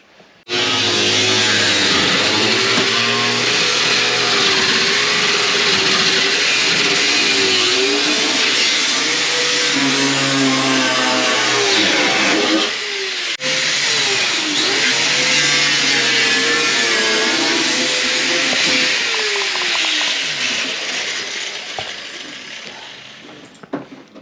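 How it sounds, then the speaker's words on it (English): An abrasive cut-off disc slices through a car floor pan in a shop, a loud, continuous high-pitched grinding whine whose pitch sags as the blade bites, with a brief pause midway before cutting resumes. "So we're gonna finish that cut off and get this floor pan out of here in just a second."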